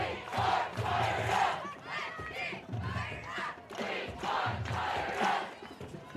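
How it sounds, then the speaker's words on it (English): A high school varsity football crowd at Vinita cheers and chants in loud rolling waves, a dense roar rising and falling several times at a distance across the stands. "this Venita crowd is into it"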